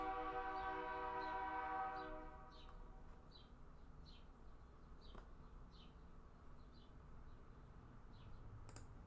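A train horn from the Game Boy Advance game Lizzie McGuire: On To Go! sounds faintly for about two seconds, then cuts off. A soft, regular clicking of train wheels carries on alone afterward.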